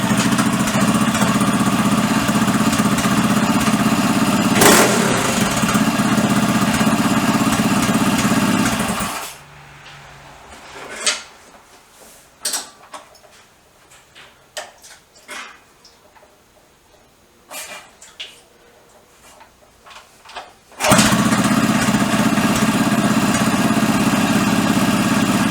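An SM Highboy Special stationary engine runs with the throttle closed, a loud steady chugging drone that drops away partway through to quiet irregular ticks and knocks, then returns at full volume near the end.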